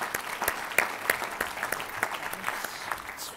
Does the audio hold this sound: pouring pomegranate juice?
no